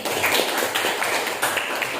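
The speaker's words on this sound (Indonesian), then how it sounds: "tepuk tangan untuk Devi" An eighth-grade social studies class claps for a classmate, a steady, moderately loud round of many hands applauding with no talking over it.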